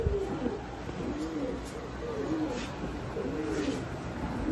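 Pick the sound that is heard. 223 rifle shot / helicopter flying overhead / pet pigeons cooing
pet pigeons cooing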